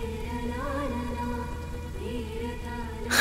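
Steady rainfall makes a continuous soft patter under a sustained melodic tone, with a brief louder splash at the end.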